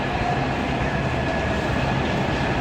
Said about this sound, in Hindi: फाइनली हम मेट्रो में आ गए